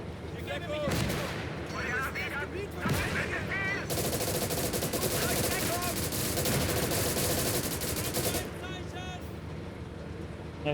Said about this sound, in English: See if the machine gun moves around as well.